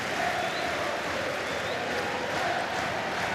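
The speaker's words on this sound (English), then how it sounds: "Listen to the crowd." Stadium crowd at a Super League rugby league match, Wigan against Leeds, giving a broad, steady roar with scattered applause, continuous and moderately loud throughout.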